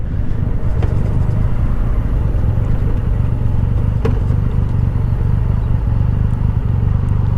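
A Triumph Rocket III motorcycle's big engine pulls hard under acceleration, a loud continuous low rumble heard up close with little variation.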